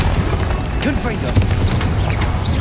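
Confringo spell blasts in Hogwarts Legacy combat, a series of sharp booming bursts and crackling impacts layered over busy battle noise, with a voice shouting spell names over the action.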